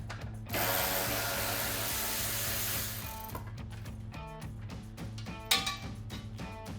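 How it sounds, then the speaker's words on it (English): A 10mm ratchet loosens the headlamp bolts on a Jeep Gladiator JT, making a loud whirring burst and then rapid clicking pawl ratchets in quick runs, close and alone. "you will need a 10mm ratchet, and there are 3 bolts on each headlamp that need to be removed"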